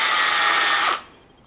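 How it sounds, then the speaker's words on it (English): A small hand drill whirs steadily while countersinking a hole in a marine clip, a loud continuous buzz that cuts off abruptly near the end, leaving quiet room tone. "We'll just do that with a little hand drill."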